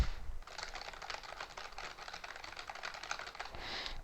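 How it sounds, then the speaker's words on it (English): Continuous clattering keystrokes on a computer keyboard, quick and steady, close up with no voices. "this is what it sounds like if I'm typing with my keyboard."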